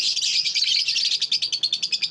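Dense, high-pitched chirping from several small birds in an aviary, including a lutino bird, continuous at first and then breaking into quick rhythmic tweets, fairly close and loud.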